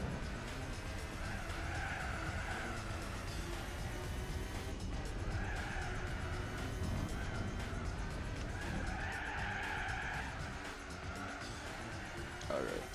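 Race car engine roaring with tires skidding and squealing in the Gran Turismo 4 video game, a steady loud stream of engine noise with swelling screeches, and a voice talking over it throughout.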